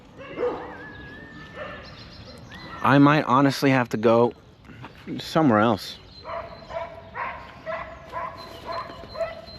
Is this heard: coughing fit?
no